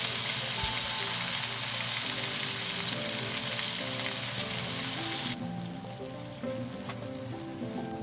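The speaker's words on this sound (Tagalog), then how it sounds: "Ayan, lalagay na tayo ng milk. Ayan, lagyan na natin yung gatas." Milk added to a hot pan for carbonara: a loud, steady, close sizzle and hiss that drops and softens partway through, with no talking.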